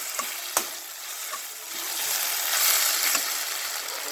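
Baby corn frying in a pan with a corn flour mixture gives a steady, close sizzle that swells toward the end, with a few sharp clicks of stirring; no one talks.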